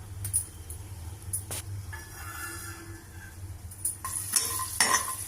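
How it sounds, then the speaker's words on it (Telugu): Peanuts frying in hot oil in a pan, stirred with a spoon, with light metallic scraping and clinks over a soft sizzle. "ఆయిల్ వేడెక్కాక రెండు స్పూన్లు పల్లీలు ఫ్రై చేసుకోవాలి"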